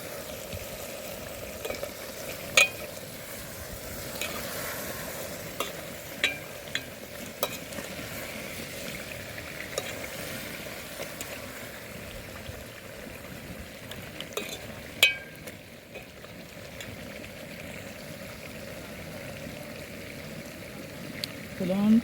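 Curry cooking on an outdoor stove and being stirred, with a steady bubbling sizzle under intermittent scraping clicks of a spoon against the pot, continuing for over twenty seconds.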